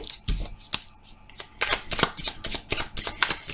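Fairy oracle cards are riffled and shuffled close up in quick bursts, with crisp flapping slaps that grow denser and more rhythmic over a few seconds, with no talking.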